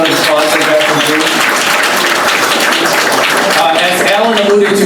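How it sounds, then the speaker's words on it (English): A room full of people applauding loudly and continuously, dense hand clapping throughout with a voice or two faintly audible beneath it near the start and end. "Let's give a lot of round of applause for Jackson and Julie."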